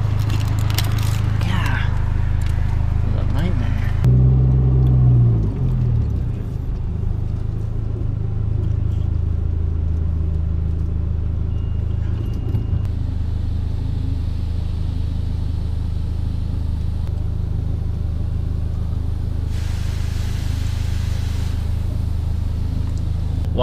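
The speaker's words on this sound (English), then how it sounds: "The wash is going." An automatic car wash runs over a car, a low steady rumble and mechanical drone heard from inside, with splashing and scraping brushes early on and faint hiss and water spray later, steady throughout.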